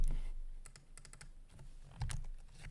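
Rapid clicking of computer keyboard typing, irregular bursts of keystrokes close to the microphone, fairly quiet, with a heavier thump near the middle and no talking.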